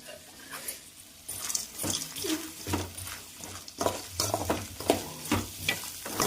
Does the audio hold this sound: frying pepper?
yes